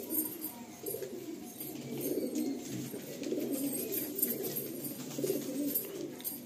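Black pigeons cooing inside a breeder's loft in Kolkata, several low, soft, rolling coos overlapping continuously, close and fairly quiet, with no talk.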